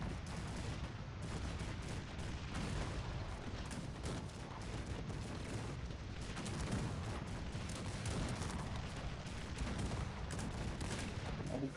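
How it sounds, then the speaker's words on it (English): Mortars open fire in the strategy video game Cossacks 3, a dense, continuous barrage of booming gunfire and blasts rumbling steadily throughout with no break. "I will open fire with my mortars."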